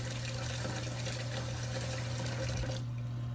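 Hot water drains steadily from a clogged sink after the stopper is popped, a constant close rushing and gurgling that cuts off near the end.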